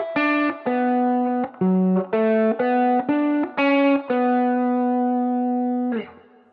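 An electric guitar lick is picked as separate distinct notes, each one clean and sustained with short gaps between them. The tone is bright with effects, and the last note rings longest before a brief scrape.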